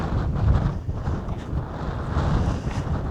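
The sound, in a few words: wind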